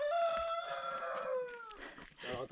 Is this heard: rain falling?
no